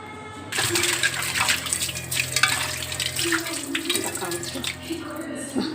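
Water splashes and scrubbing on a dosa griddle being washed, a steady wet wash with tap-like running water and occasional sizzle-like hiss throughout.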